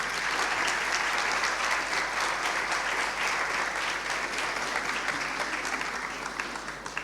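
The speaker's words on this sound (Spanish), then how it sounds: "Les damos un aplauso muy fuerte." An audience at the 2023 opening ceremony of ESAD gives steady, loud applause, a thick, sustained clapping that holds evenly and tapers slightly at the close.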